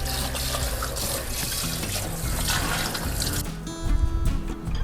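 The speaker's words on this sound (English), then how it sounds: "Now I will wash it." Running tap water splashes steadily into a sink while a stainless steel pot is washed under it, a continuous close rush with shifting splashes as the pot moves beneath the stream.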